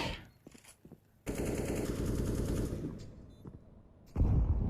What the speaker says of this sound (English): NAF will fire through the smoke and find Vinny.